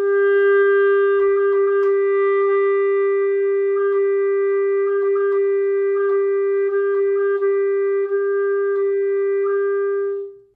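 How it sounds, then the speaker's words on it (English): A clarinet sustains one steady mid-range note while rapid timbre trills flicker between alternate colour fingerings, the tone shifting in colour without changing pitch, played solo and up close for about ten seconds before stopping. "They're the basis for timbre or colour trills, things that you'll often see in contemporary music for clarinet."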